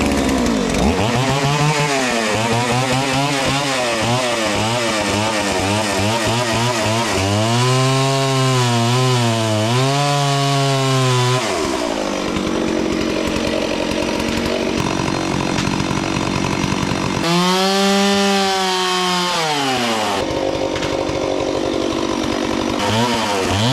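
Chainsaw cutting hardwood blocks for shoring under a CAT C13 engine, the motor revving up and bogging down through several long cuts with short idle pauses between, loud and close with no talk.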